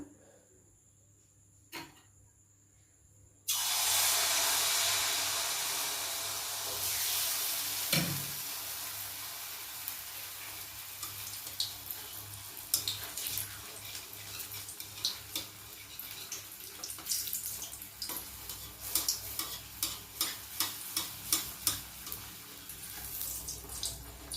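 Sweet semolina pitha (sujir poya pithe) batter drops into hot oil after a few quiet seconds, then hisses and sizzles in a loud, steady fry with scattered crackles and pops.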